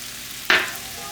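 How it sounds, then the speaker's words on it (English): A tablespoon of butter hits a hot pan with a sudden loud sizzle burst that fades over half a second into a lingering quieter frying hiss, close by, no talking. "So now I will put the 1 tablespoon butter"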